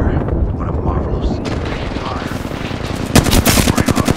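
Video game gunfire from Apex Legends: a rumble of shots and booms builds toward a loud burst of rapid automatic fire near the end, with voices talking over it.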